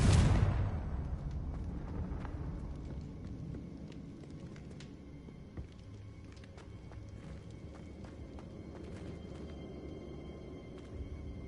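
A Confringo fire spell explodes in the Hogwarts Legacy video game as one loud, close blast at the very start, then fades into a long low rumble with faint scattered crackles.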